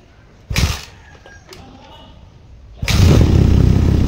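A Suzuki RMX dirt bike is kickstarted with a little throttle: a sharp thump from the kick, a quieter stretch of sputtering, then the engine catching and running loud and steady close by.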